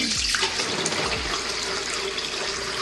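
Warm tap water pours steadily into a sink for several seconds, a continuous close splashing rush, while a micans plant is being repotted and rehabbed.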